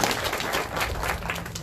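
Audience members at a historical marker ceremony clap steadily in a brief, even burst of applause, moderately distant with no voices over it.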